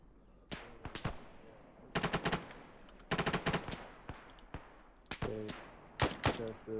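Machine gun fire in the video game ArmA 3 comes in repeated short bursts of rapid, sharp shots separated by brief pauses. The bursts are fairly distinct and loud.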